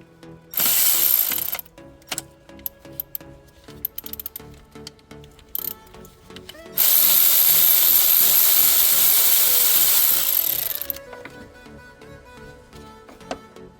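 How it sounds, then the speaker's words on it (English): A socket ratchet works an E10 inverted Torx bolt on the oil filter housing of a BMW X1 E84 with the N20 engine, with close, dense bursts of fast ratcheting clicks, the longest running steadily for several seconds. "I'm gonna use my 8mm socket, but that's a E10 inverted Torx 10."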